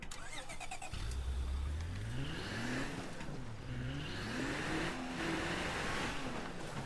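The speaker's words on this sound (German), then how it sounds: "Das Auto ist ja richtig fast." A car engine in the zombie survival video game State of Decay, revving and rising in pitch as the vehicle accelerates and shifts, with steady game ambience underneath and no talking.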